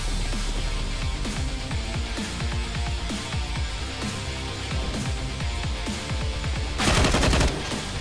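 Gunfire in CS:GO during a competitive esports match: dense, rapid automatic bursts and pistol shots layered over a steady background roar, with a brighter burst of fire near the end.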